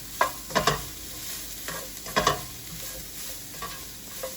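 Seasoned tofu stir-fry vegetables, dabbed with pink Himalayan salt, get stirred in a hot pan: a soft steady sizzle with a few distinct scraping strokes of the utensil, close but quiet.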